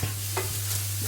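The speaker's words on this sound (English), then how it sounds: "a little bit of chili, and keep stirring" Chili and black pepper stirred in a hot pan for a vegan green bean and mushroom casserole, giving one quick soft scrape over a low frying hiss and a steady electrical hum.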